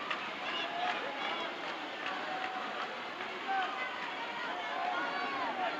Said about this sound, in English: the crowd here is now getting after Slater, and they are really vocal and noisy